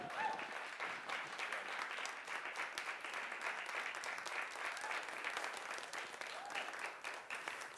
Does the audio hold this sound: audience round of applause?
yes